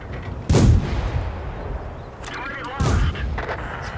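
Two heavy, booming cannon shots from an M3 Stuart light tank in World of Tanks on the Mines map, the first near 0.5 s and the second near 2.8 s, each followed by a rumbling tail.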